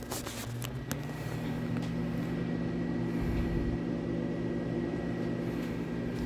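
A microwave oven runs with a low, steady hum, faint rattling and a short low thump partway through.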